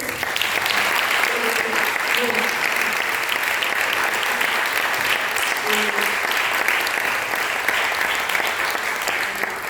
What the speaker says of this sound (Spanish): Un aplauso para Monse